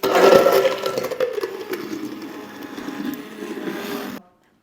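Ice cubes dropped into a glass of creamy pumpkin mocktail, a sharp clatter at the start followed by clinking and rattling that settles over several seconds before stopping abruptly, close and fairly loud.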